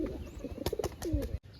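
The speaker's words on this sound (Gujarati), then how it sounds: "જો હે ને બંને કબૂતર." Pigeons in a loft give soft, low, throaty coos in short repeated phrases, fairly near and with a few faint chirps, ending in a brief quiet gap.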